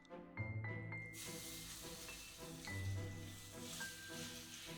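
Chicken hits hot olive oil in a pan and sizzles in a steady broadband hiss that swells after the first second, with light clinks and faint background tones beneath it.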